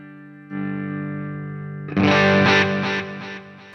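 Electric guitar played through a Line 6 POD Go on a lower-drive snapshot: a sustained chord rings out, then a louder strummed chord with several quick rhythmic strums follows, mildly distorted with a touch of chorus.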